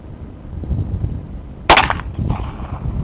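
A single sharp .22 pistol shot at an outdoor target-shooting session, loud and close, breaking over quiet background murmur, with a brief echo trailing after.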